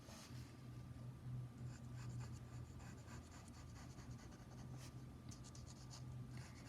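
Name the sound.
drawing on paper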